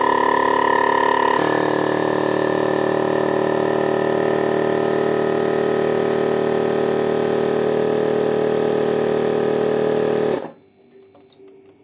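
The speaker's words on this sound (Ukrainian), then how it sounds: "вакууматор. гарно працює." A vacuum sealer packing homemade cheese runs with a loud, steady mechanical hum and whine for about ten seconds, then stops abruptly, leaving a faint quiet tail.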